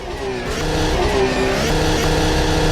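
A race car engine in Automobilista 2 sitting in neutral, a loud steady drone with a wavering pitch that rises slightly as it revs, continuous and close throughout.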